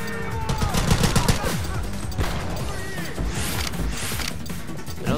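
Rapid gunfire rattles through a shooting video game, with dense bursts of shots, impacts and smashing crashes that come close and loud in irregular clusters over a few seconds.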